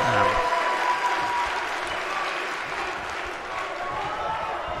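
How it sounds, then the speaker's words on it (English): Wrestling crowd applauding at an E.F.W. Destruction show, a loud continuous wash of clapping from a packed arena, steady throughout with voices mixed in. "Crowd getting behind this one."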